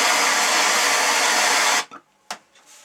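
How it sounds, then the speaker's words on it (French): A blowtorch flame roars steadily and loudly while brazing a pipe joint, then cuts off abruptly, leaving a couple of faint clicks and knocks in near silence. "Et toujours pareil au chalumeau."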